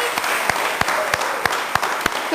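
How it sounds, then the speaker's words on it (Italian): A short burst of applause from a small TV studio audience, scattered sharp claps over a crowd patter. "Facciamo un grande applauso per Corrado Gai,"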